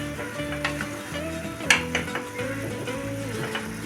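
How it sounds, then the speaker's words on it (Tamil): A coconut and jaggery mixture for coconut burfi is stirred in a pan over a low flame, with a soft sizzle and scraping strokes under steady background music. "அடுப்பை லோ ஃப்ளேமில் வச்சு நல்லா கிளறி விட்டுக்கலாம்"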